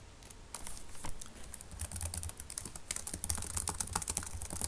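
Steady typing on a computer keyboard, quick irregular key clicks running continuously at close range with no voices.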